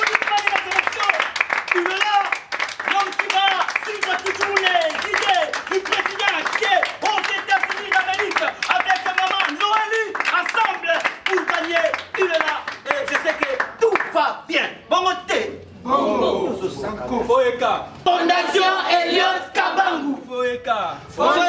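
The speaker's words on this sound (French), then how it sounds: "Sous vos applaudissements et l'acclamation, il est là" Crowd at a FOEKA foundation event cheering, shouting and clapping as a man is introduced, loud and dense throughout, with voices calling out over the clapping and a burst of shouting near the end.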